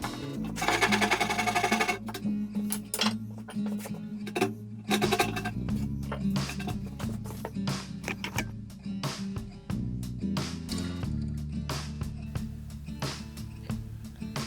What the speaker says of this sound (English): gonna use a fret saw here, but you could also use a coping saw or just a chisel